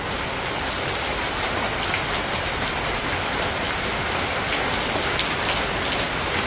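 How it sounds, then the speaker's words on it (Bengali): Heavy rain pours steadily outdoors onto muddy ground and stacked wood, a dense, continuous hiss with scattered louder drops and no voices. "এই যে দেখতেই পাইতেছেন কেমন বৃষ্টি হইতেছে"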